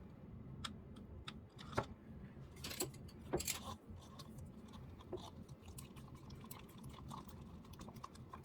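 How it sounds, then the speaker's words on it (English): Acrylic paint and glue mixture stirred in a container, with close, irregular scraping clicks and soft wet sounds of the stirrer against the sides. "Let's go ahead and mix those and see how we do."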